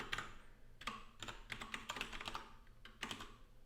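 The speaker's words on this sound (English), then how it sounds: "trying to use my keyboard here." Typing on a computer keyboard produces a quick, irregular run of close clicks and key taps, alone without speech, with brief pauses between bursts.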